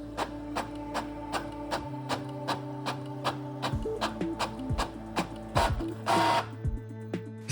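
An Epson printer prints a registration document, its mechanism whirring steadily with rhythmic clicks and ticks, pitch shifts as the paper advances, and a brief louder burst near the end, all close and clear with no voices.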